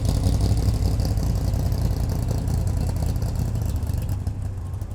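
A rat rod car at a Cars & Coffee meet pulls away with a steady, loud low engine rumble that fades slightly toward the end, with no talk over it.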